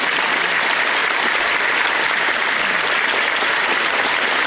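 An audience at a 5th grade graduation ceremony claps for students, a dense, even wash of applause filling the room throughout at full volume.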